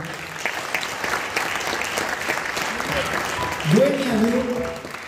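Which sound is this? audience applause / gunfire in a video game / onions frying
audience applause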